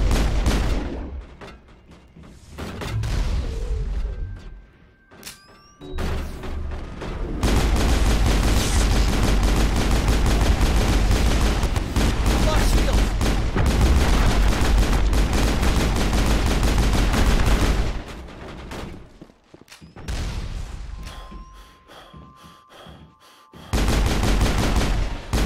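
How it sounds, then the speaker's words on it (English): Heavy gunfire and explosive blasts from enemies firing rockets in the Mass Effect video game, dense and loud bursts filling most of the stretch with brief lulls between volleys. "those guys fire rockets"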